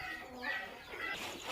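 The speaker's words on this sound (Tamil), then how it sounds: "இந்த ஃபுல் ஷெட்டுமே சேவலாக தான் வச்சுருக்காங்க." Roosters and hens kept together in a shed give a continuous stretch of clucking and crowing, moderately close with faint background noise throughout.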